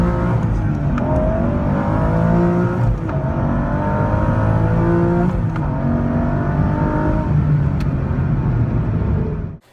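An Aston Martin engine drones loud and near, a sustained throaty hum whose pitch rises and dips slightly with throttle changes before cutting off abruptly at the end.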